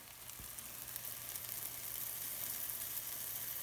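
Onions frying in a pan with a pinch of salt and fresh ground pepper, giving a faint, even crackling sizzle that holds steady throughout with no talking.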